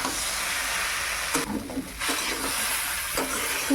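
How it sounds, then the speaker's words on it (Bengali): Bottle gourd stems and vegetables stir-fried with cumin, mustard and spices in a village kitchen pan, giving a steady broadband sizzle and hiss with a few scraping stirs, close and continuous with no talk. "ভালো করে মশলাটার সঙ্গে সব সবজিগুলো কষিয়ে নেয়"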